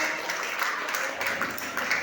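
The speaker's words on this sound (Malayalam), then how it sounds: "എല്ലാവരും കൈയടിച്ച് പ്രോത്സാഹിപ്പിക്കാം" Applause from an audience cheering a children's school performance, a steady dense wash of clapping throughout, moderately loud and continuous with a faint voice mixed in.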